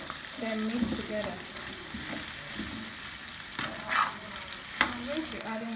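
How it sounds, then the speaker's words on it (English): Meat pie filling with carrots and sweet potato being stirred and fried in a pot, giving a steady sizzle with scraping stirs and a few clanks of the spoon against the pot. "Then mix together."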